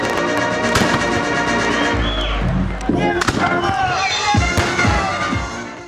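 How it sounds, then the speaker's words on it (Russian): Victory Day fireworks salute bursting over Desnogorsk at night, loud repeated booms and crackling explosions in quick succession with a crowd murmuring underneath. "долгожданный победный салют озарил мирное небо над Десногорском"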